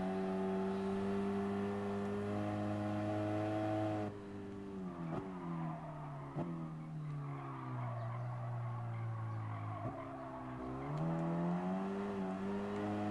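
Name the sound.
race car engine accelerating in Gran Turismo Sport video game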